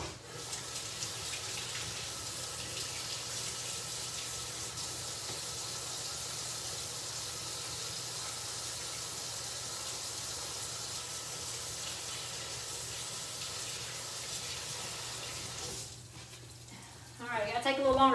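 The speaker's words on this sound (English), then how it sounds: "Let me wash my hands" Water runs steadily from a tap for a long stretch, with a voice starting up near the end as the flow stops.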